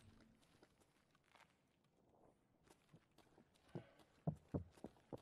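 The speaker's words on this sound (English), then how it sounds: "I heard a footstep." Footsteps in the video game Escape From Tarkov, soft and muffled at first, then a few louder, closer thudding steps in quick succession toward the end.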